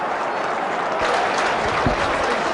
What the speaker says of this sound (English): the Burnley fans around me applaud the goal